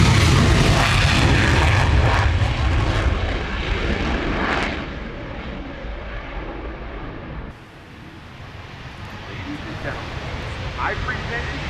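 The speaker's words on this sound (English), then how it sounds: "I present to you the United States Air Force F-22." A United States Air Force F-22 jet at an airshow, a loud, broad roaring rumble that slowly fades and thins as it moves away, with an announcer speaking over it.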